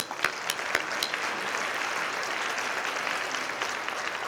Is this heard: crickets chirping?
no